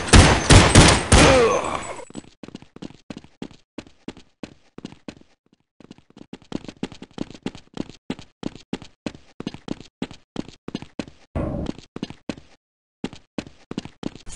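Counter-Strike 1.6 gunfire in a bomb match with bots: an opening loud burst, then rapid trains of sharp shots and short volleys with brief pauses, crisp and close.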